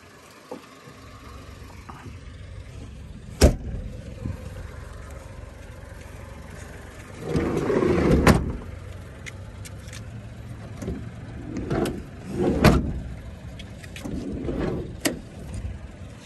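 A Honda Acty van drives along with a low engine hum, plus a few sharp knocks and thumps. Louder rumbling surges come and go as it moves.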